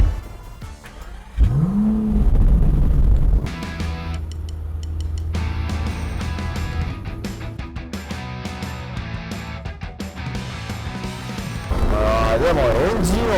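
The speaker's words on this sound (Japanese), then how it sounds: "でもエンジン音もすごい入ってくるね。" A 5.2-litre, 700-horsepower V12 Aston Martin V12 Speedster, an open-top car with no roof or windscreen, drones steadily while driving, a loud low engine note with a brief rev swell early on, under people talking throughout.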